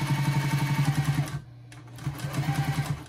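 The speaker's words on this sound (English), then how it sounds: "So I'm going to sew here" A sewing machine stitches fabric for a bowl cozy with a fast, steady mechanical whir and rhythmic needle thumps, pausing briefly midway before resuming at the same pace, close and alone without talk.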